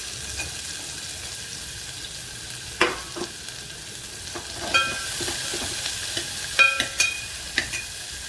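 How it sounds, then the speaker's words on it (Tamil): Steady sizzling of onions and a dried chili frying in hot oil, with occasional scraping and stirring clicks from a utensil against the pan. "வெங்காயம், ஒரு காஞ்ச மிளகாய் நல்லா வதக்கணும்."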